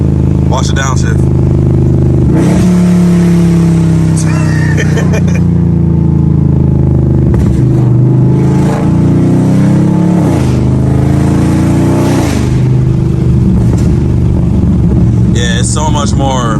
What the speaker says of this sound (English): Like that third to second gear downshift would take forever.